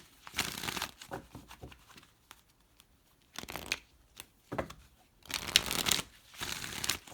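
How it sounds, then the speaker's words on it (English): Energy oracle cards are riffled and shuffled in bursts, crisp papery flutters and slaps close by with short pauses between the shuffles. The room is otherwise quiet and no one speaks. "Let me pull some energy oracle cards"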